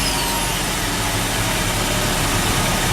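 A 2013 Chevrolet Equinox engine, started by remote start, runs at a steady low idle rumble close by, with no talking.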